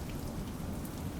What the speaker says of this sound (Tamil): இங்க மழையா இருக்குங்க